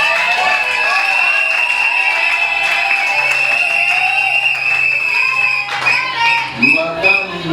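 Wedding guests in a reception hall applaud and cheer loudly, a dense sustained crowd roar with clapping and shouts, a sharp whistle-like tone running through it and voices calling out near the end.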